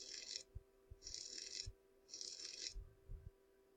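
In a surgery video game, a probe touches the outside of an eye to freeze a retinal tear. Three short, bright hissing bursts repeat at an even pace over faint low clicks and a soft steady hum.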